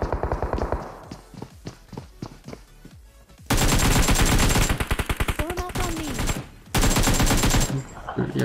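Gunfire in PUBG Mobile: a run of sharp single shots, then long loud bursts of rapid automatic fire with brief pauses between them.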